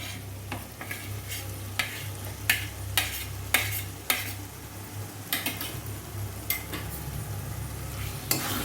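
Boiled chopped eggs are stirred into a chicken bharta gravy, with regular sharp scrapes and knocks of a spoon against the pan over a low steady sizzle, close by and without speech.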